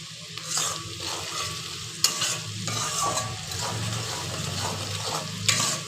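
Spice paste for a bhola bhetki fish curry with eggplant being stirred and sautéed in a pan, a continuous close sizzle broken by regular scraping strokes and a couple of sharp utensil knocks.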